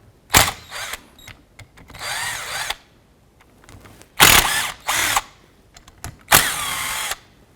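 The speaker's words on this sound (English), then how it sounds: "Using an 8mm socket, I'm going to go ahead and remove the 3 8mm bolts holding the wiper motor to the transmission." A powered driver with an 8mm socket backs out bolts on the wiper motor of a 2001-2007 Ford Escape: several loud, close whirring bursts separated by brief ratchety clicks and pauses, with no talk.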